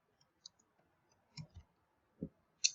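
A computer mouse clicks a handful of times, sharp, isolated and close, with quiet gaps between the clicks.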